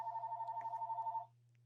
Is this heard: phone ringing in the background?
yes